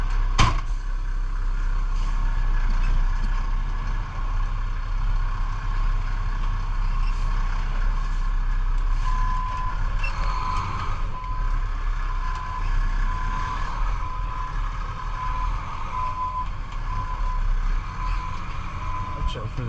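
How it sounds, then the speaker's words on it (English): A truck reverses with a steady repeating backup beep over a loud continuous engine rumble, close and unbroken throughout. "Now we gotta turn the truck around or just back it up."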